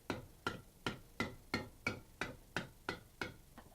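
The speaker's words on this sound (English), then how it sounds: "take your hammer, gently tap it back flat" Ten evenly spaced metallic taps of a hammer gently striking a can's bowed-out bottom flat, a steady rhythm about two per second, close and fairly quiet.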